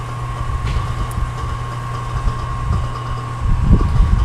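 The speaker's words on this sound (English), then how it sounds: "I'll let it run for just a second, make sure everything sounds good. Got our motor down below. That's a 5 horsepower motor," A Monarch CK12 lathe runs under power from a 5 hp three-phase motor, giving a steady, even motor hum with low mechanical rumble that grows slightly heavier near the end.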